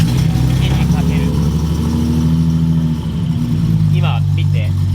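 A Datsun 240Z (Fairlady Z S30) engine, started after a clutch repair, runs steadily with a loud, low hum, its pitch shifting slightly, while brief voice-like sounds come and go over the top.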